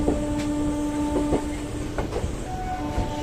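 A MEMU express train rolls slowly along the rails with a steady mechanical rumble, sustained motor hum and occasional rhythmic wheel clicks, close and continuous.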